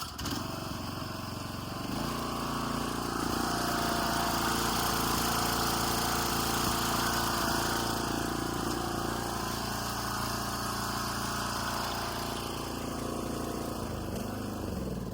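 A Craftsman riding mower engine runs at a steady, rough idle from start to finish, with a droning mechanical rumble close by and no talking.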